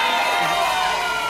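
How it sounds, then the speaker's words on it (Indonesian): Dense crowd noise of an audience clapping and cheering, steady and loud throughout with no pauses. "Beri tepuk tangan untuk Ruben Onsu."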